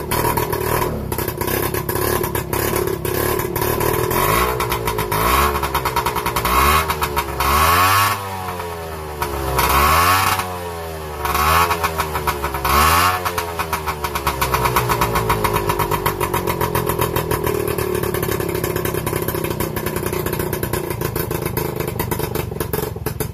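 An MBK 51 moped engine starts and runs, revving in several rising bursts before settling into a steady idle as it warms up, loud and close with no talk.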